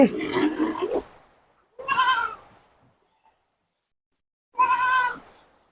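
A Black Bengal goat on a farm bleats three times, loud and close, with quiet pauses between the calls.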